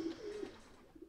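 Pigeons in the video game Jazzpunk give a brief, soft cooing call, heard alone and faint.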